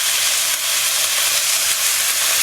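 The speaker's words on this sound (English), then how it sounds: "Oh, that's sizzling. That's what we want to hear. We want to hear the sizzling" Loud, steady hissing sizzle of beef frying in a hot pan for beef fried rice, continuous and close, with no talking.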